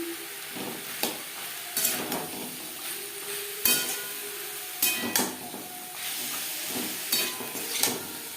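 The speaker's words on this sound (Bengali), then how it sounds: "মশলার সাথে চিকেন বেশ ভালো করে মিক্স করে দেবো আর দিয়ে দেব গাজর" Chicken being mixed with spices and carrot for a homemade momo filling, with repeated scraping and stirring knocks of a utensil against a bowl, steady and close with no talking.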